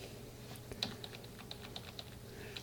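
Computer keyboard keys are pressed in a quiet room, roughly eight separate light clicks at an uneven pace over a faint hum.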